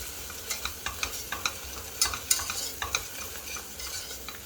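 Onions frying with butter in a pot are stirred with a utensil, giving a string of soft, irregular scraping clicks over a faint sizzle.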